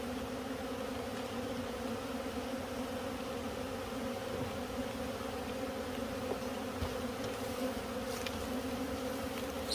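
Honeybees buzzing at an open hive during an October hive check while being fed patties, a steady dense drone of many wings that continues unbroken and fairly close throughout.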